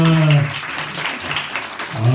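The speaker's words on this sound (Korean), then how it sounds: "다시 한번 박수 부탁드릴게요." An audience at a Christmas joint concert in a small bar claps in a brief burst of scattered applause, framed by a voice at the start and end that partly covers it.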